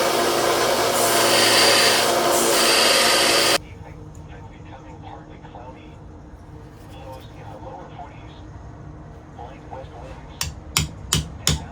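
Punching a pin out of a Case XX Stockman pocket knife: after a loud burst of sanding noise cuts off, quiet handling and scraping follow, then a run of five sharp, close metallic hammer taps near the end.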